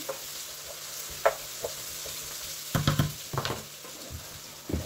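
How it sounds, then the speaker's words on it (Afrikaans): Onion frying in a pan with spice and salt, cooked alongside sausage for pap en wors. It gives a soft, steady sizzle, with a few stirring scrapes and knocks near the end. "Dan braai ons die onion."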